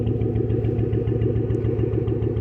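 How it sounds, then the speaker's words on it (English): Ford Expedition engine with a brand-new Motorcraft motor, misfiring while it runs: a close, steady low rumble with a rhythmic, uneven pulsing stumble repeating throughout, no talk. "we're definitely getting a misfire"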